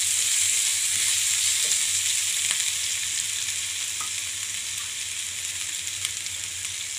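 Grated garlic and ginger fry with browned onions in a hot pan, giving a steady, loud hiss of sizzling oil with a few faint scrapes of stirring.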